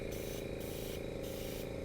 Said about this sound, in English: And I'm just spraying it, but I have to do it way up here